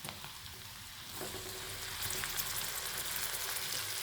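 Tomato for sambar frying in hot oil in a pan, a steady close sizzle that swells and grows denser after the first second, with faint crackles and no talking.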